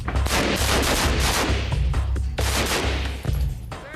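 Rapid bursts of gunfire crack loudly and repeatedly inside a military training shoot house where soldiers practice close-quarters clearing, with dense overlapping shots and echoing reports filling the confined space.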